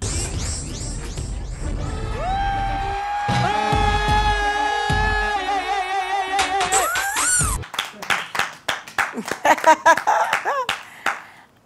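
Applause for girls in a dance battle on a television program, music with a melody plays first, then it cuts off into a series of loud, uneven hand claps from a small group near the microphone.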